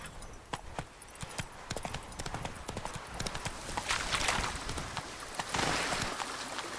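Game horse galloping in The Witcher 3: Wild Hunt, a rapid, steady clip-clop of hooves running close and loud throughout, with faint ambient rain-like patter beneath.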